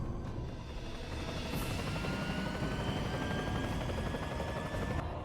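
Helicopter rotor chopping steadily in the Resident Evil 4 escape scene, a loud continuous thrum with whining turbine tones, holding level throughout without voices.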